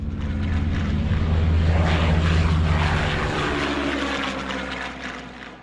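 A propeller plane drones loudly overhead with a steady low engine hum, the sound swelling and then slowly fading as it passes.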